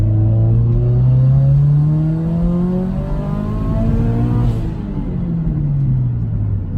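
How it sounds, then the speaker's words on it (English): A turbocharged Scion FR-S pulls hard in second gear from about 25 mph, its engine note climbing steadily in a loud, close rising drone with rumble, easing briefly before building again, heard from inside the car without talk. "this is just pulling out of second gear"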